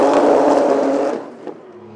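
An Acura TLX GT race car launches out of the pits with a loud, close engine roar that drops away sharply after about a second, leaving a quieter fading hum.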